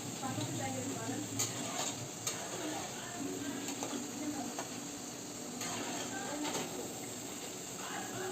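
Boondi, small gram-flour droplets, frying in hot oil on high flame while being stirred with a utensil, a steady sizzle with scraping and clinking strokes against the pan, close up.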